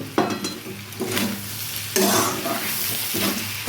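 Potatoes being stirred into a pan of frying dried fish with green tomato, a steady sizzle broken by several scraping stirs, close and loud with no talk.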